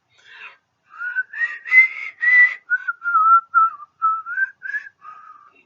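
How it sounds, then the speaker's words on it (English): A man whistles a wavering, tune-like melody as the Tales from the Crypt theme song, about a dozen sustained notes in short phrases, close and clear with no other sound. "whistling the theme song of Tales from the Crypt as he do it"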